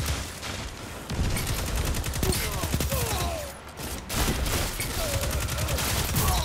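Auto rifle gunfire in the shooter game Destiny 2, dense rapid bursts of automatic shots rattling loudly and close, with brief pauses between volleys and whooshing effects mixed in.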